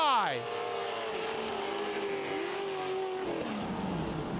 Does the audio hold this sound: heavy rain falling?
no